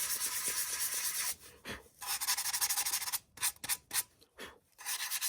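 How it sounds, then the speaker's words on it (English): A foam duck decoy is hand sanded with 220 grit sandpaper, close scratchy rubbing strokes in a long steady stretch, then shorter irregular bursts with pauses, then steady rubbing again. "you can see how easy this stuff sands off. This is about, you know, 220 grit sandpaper."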